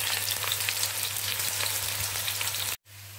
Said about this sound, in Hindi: अब हम इसे अपनी कटी हुई प्याज ऐड कर देंगे। इसे हमने अच्छी तरह से भून लेना है।